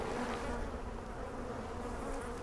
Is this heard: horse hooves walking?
no